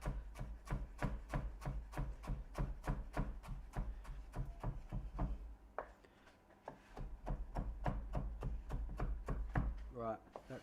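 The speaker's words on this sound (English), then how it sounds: "Chop that up, not too fine." Parsley being chopped with a knife on a board, a fast steady run of crisp taps close by, pausing briefly midway before resuming, with a soft voice murmuring underneath.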